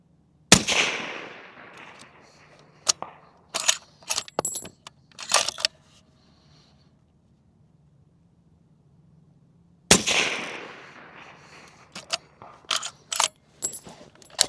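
A Ruger Precision Rifle Magnum fires outdoors. Two loud, sharp shots about nine seconds apart each ring out with a trailing echo, and light metallic clicks and clinks from handling the rifle fall between them.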